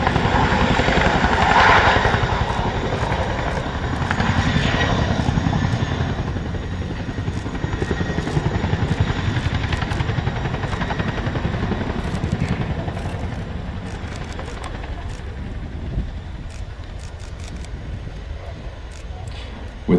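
A Chinook helicopter performs a roll demonstration at the Royal International Air Tattoo air show, its heavy rotor thrum and engine roar loud and sustained throughout, easing slightly in the later part.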